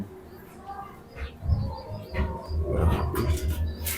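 Low, soft cooing of racing pigeons in a loft, several overlapping calls rising and falling, with faint chirps and rustling around them.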